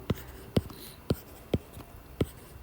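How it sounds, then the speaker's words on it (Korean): Handwriting on paper during a math problem walkthrough: six sharp, evenly spaced pen strokes about half a second apart, close and fairly quiet, with no voices. "한번 쭉 써볼게요"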